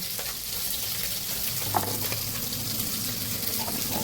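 Fish frying in oil in a home kitchen, giving a steady, moderately loud crackling sizzle that runs throughout, with a brief clink partway through and no talking.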